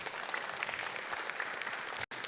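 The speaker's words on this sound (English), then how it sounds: "give a big applause to the three speakers" An audience at an academic conference applauds three speakers, a steady, dense wash of clapping at moderate volume that cuts off abruptly at the end.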